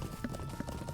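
Riding horse in Lord of the Rings Online, its hooves clopping in a quick, regular rhythm, a few soft knocks in quick succession at low volume with no one talking.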